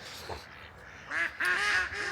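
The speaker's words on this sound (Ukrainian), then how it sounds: "Качки всі пливуть до мене" Several ducks on a lake quack close by in a quick burst of nasal calls over a steady outdoor background.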